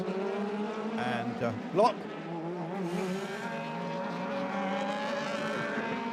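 A BMW DTM race car drives hard around the Lausitzring circuit, its engine note rising and shifting up close, with a brief tyre squeal, while a commentator speaks over it.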